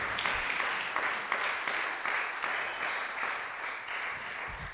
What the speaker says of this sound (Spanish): Un fort aplaudiment per a ella per la seva participació.